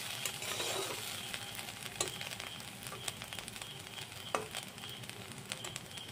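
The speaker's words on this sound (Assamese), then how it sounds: "আলু ভাজিখিনি এনেদৰে লৰাই দি আছোঁ।" Potato fry sizzles in a pan on a low gas flame while a spatula stirs it, a continuous crackling hiss broken by sharp scraping clicks of the utensil.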